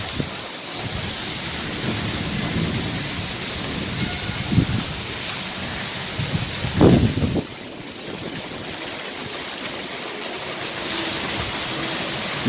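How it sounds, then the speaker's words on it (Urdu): Steady rain of the season's first downpour in Hyderabad, a dense continuous hiss with a low rumble of thunder rolling through midway, no speech over it. "پھر الحمدللہ بارش ہو رہی ہے"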